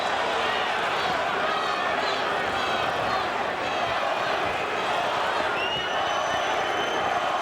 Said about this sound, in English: Crowd is chanting, Vitali, Vitali, Vitali.